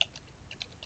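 A few quick, light keystrokes on a computer keyboard, typed into a web browser on a Windows 10 machine, clicking unevenly and close up in a quiet room.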